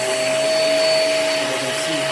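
A Hoover React vacuum cleaner runs steadily on carpet, a loud continuous motor whine with a strong steady tone, close and uninterrupted throughout.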